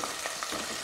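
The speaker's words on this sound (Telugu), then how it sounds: "సో వీటిని కొద్దిసేపు వేగనిద్దాము." Cucumber masala curry frying in a pan gives a brief, close burst of steady sizzling with light stirring.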